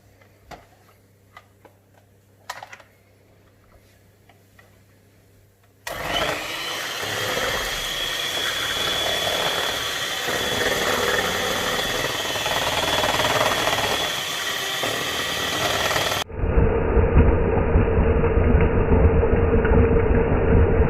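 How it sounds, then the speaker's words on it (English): An electric hand whisk mixing Yorkshire pudding batter whirs loudly and continuously for about ten seconds, then drops to a lower, steadier motor hum, after a few quiet clicks. "Now we're going to use the electric whisk."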